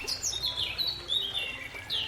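Songbirds chirp and sing in short high bursts, several calls overlapping and repeating throughout, against a quiet natural backdrop with no voices.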